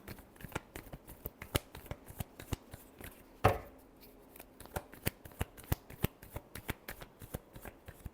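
Tarot cards are shuffled by hand in a steady run of crisp, rapid riffling clicks, close up, with one louder tap partway through and no talking.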